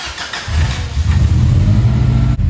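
Car engine fitted with an STI intercooler and a new knock sensor starts up and settles into a loud, steady idle with deep low rumble, close by and continuous, with no talking.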